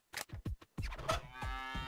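Cow in the cartoon adventure game Deponia, a few short thumping scrapes followed by a drawn-out, close, fairly loud bovine moo.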